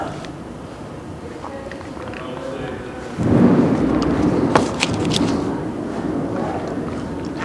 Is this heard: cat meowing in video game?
no